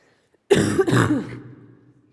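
A single loud cough breaks a near-silent moment, a sharp burst followed by a rough, fading throaty tail.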